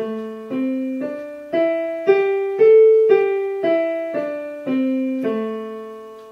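Solo piano steps up and back down a five-note minor pentatonic scale on white keys, one clear note at a time at an even, moderate pace.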